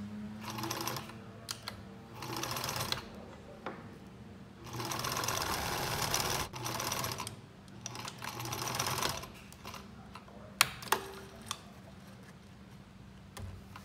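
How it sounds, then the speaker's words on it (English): A sewing machine stitching the side of a fabric medical bootie, running in several rapid chattering bursts of a few seconds each separated by short pauses, close and clear with no talking. "and then we're gonna stitch this side."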